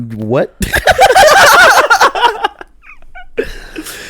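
A cat lets out a drawn-out, wavering yowl up close, followed by laughter and people talking.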